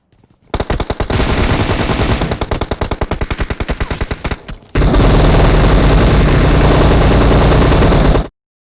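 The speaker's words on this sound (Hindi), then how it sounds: "वैसे ये दोनों गोलियां कहाँ चला रहे हैं।" Rapid bursts of automatic gunfire, loud and close, first in a stuttering rapid rhythm and then a dense continuous volley after a brief pause, in the video game PUBG Mobile.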